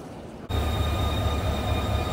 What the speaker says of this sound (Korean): 자, 기차를 타고요.